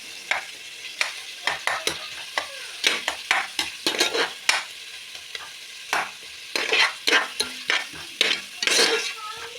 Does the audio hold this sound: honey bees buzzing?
no